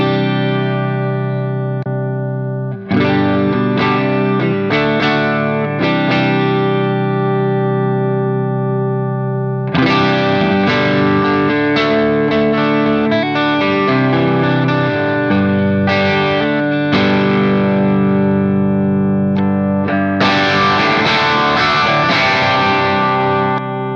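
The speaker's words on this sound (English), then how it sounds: "let's start with the drive section with all the controls at 12" Electric guitar on the neck pickup played through the drive section of a Nux Cerberus pedal with all controls at noon, sustained distorted chords and ringing notes that start, stop briefly, and come back louder and fuller, with no talking.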